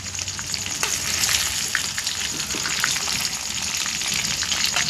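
Chicken chap fries in hot oil, a loud, even crackling sizzle with faint bubbling that runs unbroken throughout, close by and alone without talk.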